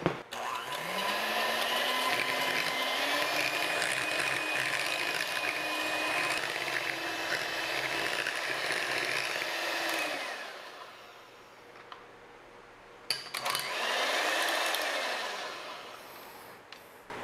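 Electric mixer whipping room-temperature ganache in a hot home kitchen, a steady whirring motor with beaters churning, pausing briefly and then starting again.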